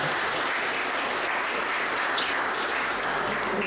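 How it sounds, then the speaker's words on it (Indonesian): Applause from an audience at an education office event in East Java, a steady dense wash of clapping holding evenly through the whole stretch at moderate loudness. "Tepuk tangan ya."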